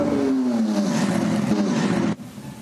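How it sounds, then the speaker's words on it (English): Race cars at the Hankook 24H Barcelona 2024 endurance race sweep into the pit lane under a code 60, engines droning loudly with a falling pitch as one car passes close, then the roar cuts off abruptly near the end. "all the cars are coming flying in the pit lane"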